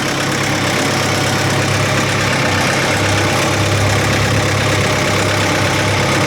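A loader carrying a bucket, about 8,000 pounds, rolls across a bridge of I-beams, its diesel engine droning loud and constant at close range, with no voices.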